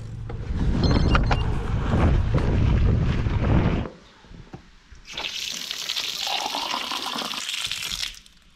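Water runs from a church tap for about four seconds of steady, full rushing flow at close range, then a thinner hissing stream follows after a short pause, with no talking.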